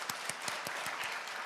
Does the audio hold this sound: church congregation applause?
yes